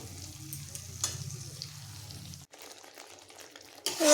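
A paste of onion, green chilli and poppy seed sizzles and crackles as it fries in a pan, with brisk stirring scrapes over the first half before the sound thins to quieter frying.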